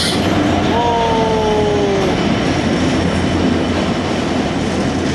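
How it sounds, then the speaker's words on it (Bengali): The Benapole Express passenger train arrives at Chuadanga station, rumbling steadily and loudly close by, with a brief high wheel squeal near the start and a continuous rolling rail noise throughout. "বেনাপোল এক্সপ্রেস ট্রেনটি কিন্তু চলে এসেছে অলরেডি চুয়াডাঙ্গায় দেখুন এই হলো আমাদের ট্রেন"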